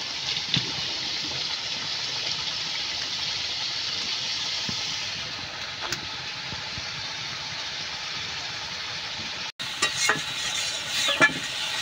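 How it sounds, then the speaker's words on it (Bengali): Chili powder and turmeric frying in oil in a pan, a steady bright sizzle with soft stirring scrapes that grow a little busier near the end. "মশলা ভালো মতো কষিয়ে নেব।"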